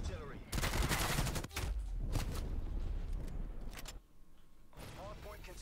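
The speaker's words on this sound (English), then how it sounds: "incoming artillery" Artillery fire in Call of Duty Black Ops Cold War: loud, dense booming blasts and crackling gunfire for several seconds, dropping briefly before a quieter stretch near the end, with voice chatter in the mix.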